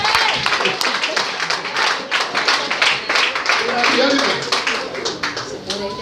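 Congregation in a church clapping along during preaching, a fairly dense patter of hand claps at steady strength, mixed with voices and a spoken word or two underneath.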